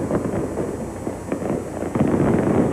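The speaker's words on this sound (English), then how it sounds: "the Clintons savor their victory and triumph and watch the fireworks display" Fireworks display at a 1996 election night victory celebration, a dense, continuous crackle of bursts and pops at a steady loud level.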